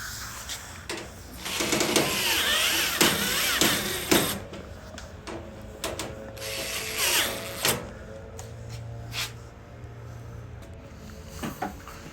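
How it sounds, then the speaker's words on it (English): Screws are retightened by hand on a Maytag Bravos XL gas dryer. The result is a busy run of clicks, ratcheting and mechanical rattles with short sharp knocks, heard close and fairly steady for about twelve seconds, with no one talking. "now you need to retighten those 1/4-inch screws at the top."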